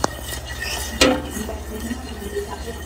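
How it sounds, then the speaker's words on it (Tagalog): Utensil scraping and clinking in a pot while buko pandan mixture is stirred over low-medium heat, soft steady scraping with a sharp clink at the start and a louder clatter midway. "Continuous lang po ang mixing"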